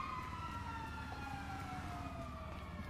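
Fire truck siren in GTA 5 wailing steadily with a slowly falling pitch, loud and continuous over a low rumbling engine and street background.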